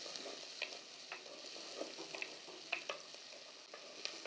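Onions frying in coconut oil for a Kerala-style beef curry, a steady low crackle and sizzle with occasional stirring clinks and scrapes, close by and with no one talking.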